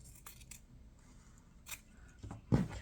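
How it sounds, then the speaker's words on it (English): Scissors snip through fabric near felt and batting in a quiet room, giving a few soft, close cuts and then a sharper, louder snip near the end. "You're trying to cut some of the fabric away."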